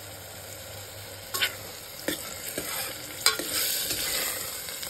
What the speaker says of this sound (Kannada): ಇದು ನೋಡ್ರಿ ಹಸಿ ವಾಸನೆ ಹೋಗೋ ಮಟ್ಟ ಚಲೋ ತರ ಹಿಂಗೆ ಫ್ರೈ ಮಾಡ್ಕೊರಿ